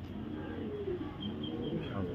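Lahori show king pigeons coo softly nearby, a low throaty warble rising and falling over a couple of seconds, with faint background talk.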